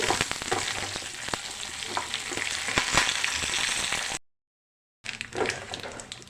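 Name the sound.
frying tempering spices, dried red chillies and curry leaves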